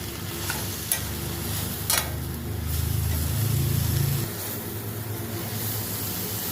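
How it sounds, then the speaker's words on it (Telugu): Tomato and spinach curry simmering in a pan, a soft continuous sizzle with a few sharp scraping stirs early on and a low rumbling stretch in the middle. "టమాటా పాలకూర బాగా కలిసేటట్టు ఉడికించాలి మెత్తబడినంత వరకు."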